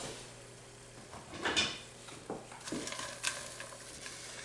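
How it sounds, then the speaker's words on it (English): Chopped onion and vegetables sauté in a hot pan while a spatula tosses them, giving a few scraping, rustling bursts over a soft, steady sizzle. "just toss the vegetables to coat them. And then I'm going to let these saute for, 5 minutes or so"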